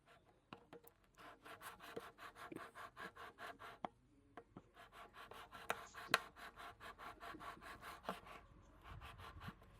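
A hand saw cuts through a thick plastic bottle resting on a small bucket, a long run of rhythmic back-and-forth rasping strokes, close and steady, with a few sharp knocks between strokes.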